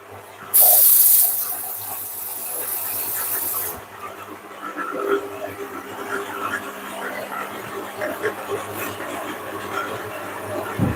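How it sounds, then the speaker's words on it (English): Water runs from a kitchen tap while a roti wrap with sizzling pork and onion is prepared. A loud hissing burst is followed by a steadier stream, then softer trickling and clinking sounds close by. "So I need about this more water."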